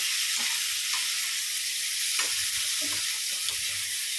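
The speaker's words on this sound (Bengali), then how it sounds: "মশলা কষাচ্ছি তো পনিরটা দিয়ে" Spices sizzling with paneer in a hot pan, a steady broadband fry hiss with soft stirring scrapes and clinks scattered through, close and continuous.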